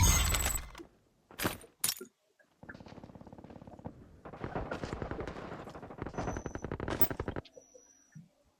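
Gunfire in a shooting video game: a few sharp single shots, then long sustained automatic bursts of rapid, evenly spaced cracks, fairly close and loud, with brief gaps between volleys.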